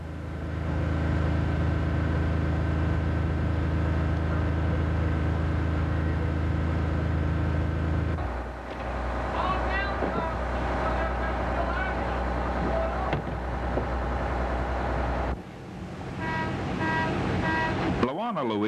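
A shrimp trawler's 12-cylinder diesel engine rumbles steadily as the boat gets underway in Georgia, a loud, deep drone that shifts pitch and load partway through, with mechanical tones and a brief horn-like sound layered on top.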